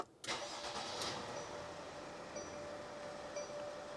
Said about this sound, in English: I'm starting the engine now.